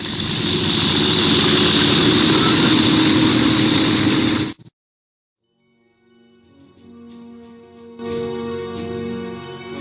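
WWI biplane engines in the game Wings! Remastered drone loudly and steadily for a few seconds, then cut off abruptly to silence before a soft musical tone and chimes fade in.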